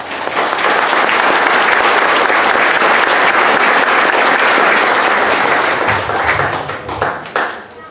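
Loud, sustained applause from an audience at a Memorial Day ceremony welcoming a speaker, many hands clapping in a thick continuous roar that thins and trails off with scattered claps near the end.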